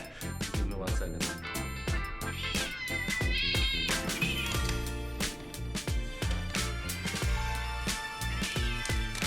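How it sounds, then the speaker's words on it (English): A cat meows eagerly and repeatedly over food, loud insistent cries in quick succession, heard close and over background sound. "Have you witnessed the pure enthusiasm of a cat who thinks this might be their final meal?"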